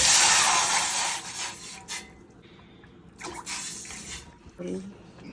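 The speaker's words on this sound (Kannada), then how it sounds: "ಒಂದು ಮುಕ್ಕಾಲು ಕಪ್ಪಷ್ಟು ನೀರು ಹಾಕೋತಾ ಇದ್ದೀನಿ" About one and three-quarter cups of water splash loudly into a pan for rice roti dough in a brief, close pour at the start, then fade to quieter drips and handling sounds.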